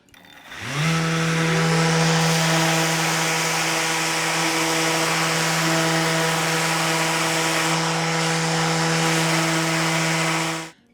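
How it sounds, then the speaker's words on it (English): A power sander runs steadily while chamfering the edge of a wooden piece held horizontally at 45 degrees, spinning up with a rising whine and then holding a loud, even motor tone with sanding hiss for about ten seconds before cutting off. "So now I'm going to start the sander in a second"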